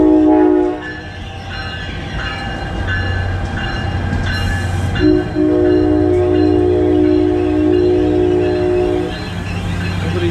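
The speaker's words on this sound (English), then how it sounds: "So this train is not stopping at the station." Passing train at Bay Head station on the Jersey coast line, running through without stopping, with a loud sustained horn blast over rumbling wheels and clatter, the horn cutting in and out.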